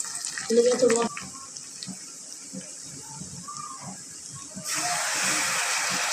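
Hot water pours into a pan of frying onion and garlic, a sustained rushing hiss that starts partway through and continues loudly to the end, after quieter kitchen clatter and a brief sizzle.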